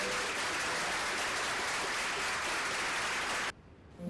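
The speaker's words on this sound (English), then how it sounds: "We'll have to give a round of applause to..." Sustained audience applause at a city council candidate forum in Cambridge, a dense even wash of clapping that cuts off abruptly near the end.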